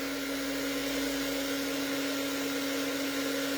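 Constant whirring blow of a craft heat tool melting embossing powder, steady and close, running throughout without pause.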